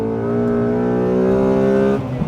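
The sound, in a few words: Honda Accord Euro R engine revving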